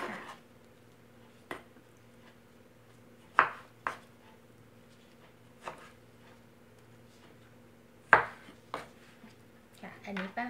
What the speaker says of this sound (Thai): อันนี้ป้าก็จะหั่นนะคะเพื่อว่าสะดวกในการทานนะคะ